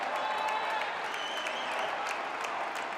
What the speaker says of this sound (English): He gets a standing ovation from the Wheaton crowd